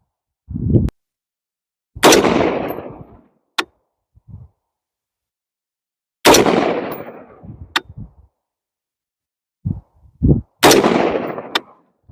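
Rifle shots ring out at an outdoor range while a scope is sighted in, several sharp, loud reports spaced a second or more apart, each trailing off in a brief echo, with a few fainter clicks and knocks between them.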